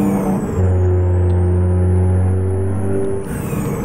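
Truck engine brake in American Truck Simulator, a loud, steady low droning rumble with a sustained tonal hum, holding for several seconds before easing off, with no talking.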